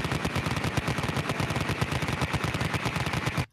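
A rapid-fire cannon rattles off a dense, continuous burst of loud shots in quick even rhythm for several seconds, then cuts off abruptly, with no talk over it.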